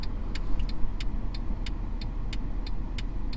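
A Mercedes-Benz CLS550 in sport mode gives a steady, close engine rumble with a faint rhythmic ticking over it. The note stays fairly even rather than climbing sharply.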